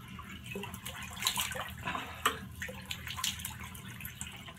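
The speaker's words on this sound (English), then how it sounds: "right now I'm just going to do a cold splash" Cold water splashes onto a face at a bathroom sink, with irregular close, soft splashes and drips over a quiet background.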